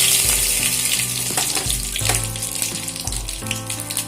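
Cumin and whole coriander seeds hitting hot oil in a wok, a steady close sizzle and crackle running throughout with some low clatter, no talk.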